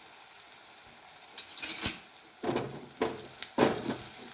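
Chicken ring kebabs fry in hot oil on a low gas flame, hissing and sizzling in several loud bursts as batter hits the oil and is stirred, with quieter crackle between.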